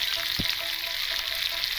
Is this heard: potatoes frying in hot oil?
yes